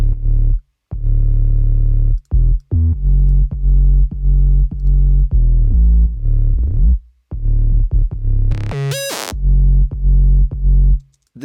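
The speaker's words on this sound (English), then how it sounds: "And then we move on to the sub bass of the drop," Synthesized sub bass from the drop, a Serum patch in a electronic track, plays loud, deep sustained notes in rhythmic bursts with short gaps, accompanied by brighter distorted effects and a rising sweep near the end.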